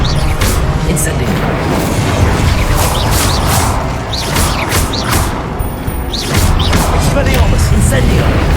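Repeated Incendio fire spells cast in combat in Hogwarts Legacy, a dense run of booming, crackling bursts and whooshes over a constant loud battle din, with shouted spell names mixed in.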